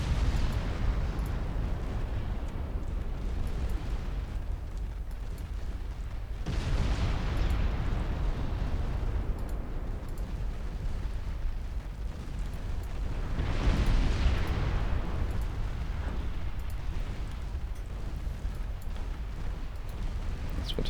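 Rapid 5-inch destroyer guns fire in an Ultimate Admiral Dreadnoughts naval battle, a continuous rumbling barrage with two heavier swelling blasts standing out, loud and sustained across the whole stretch.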